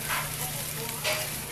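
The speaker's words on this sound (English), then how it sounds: "The fake poop is boiling." Homemade fake poop mixture boiling in a hot pot, a close, steady sizzle and bubbling hiss with brief louder bursts, heard without talking.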